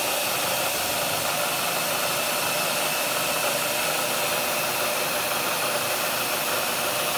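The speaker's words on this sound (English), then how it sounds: "We're going to use the face mill to do the majority of the milling of this." Continuous, even high-pitched whine and hiss of a CNC face mill cutting steady adaptive-clearing passes on a Masso-controlled machine with Clearpath servos, loud and unbroken with no talking.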